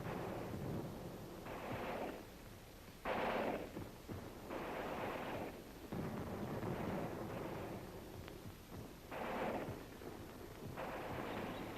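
Supporting artillery fire during a military nuclear test exercise, heavy repeated booms rolling in at an irregular rhythm over a constant rumbling background, distant and muffled.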